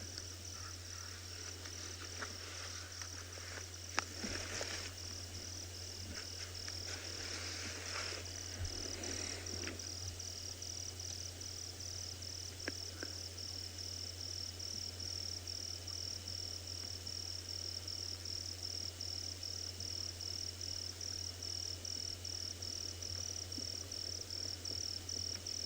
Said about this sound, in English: Different kinds of cricket sounds.